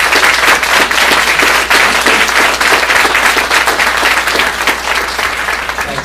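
A live audience applauds a guest speaker at a talk, a dense, steady wash of many hands clapping loudly and continuously throughout.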